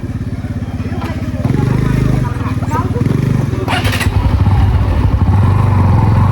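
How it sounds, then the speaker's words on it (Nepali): A motorcycle engine runs loud and close the whole time, a steady rough drone that rises slightly in pitch as the bike picks up speed on a ride from Narayanghat to Nuwakot, with occasional clatter. "बाइक चलाउनु"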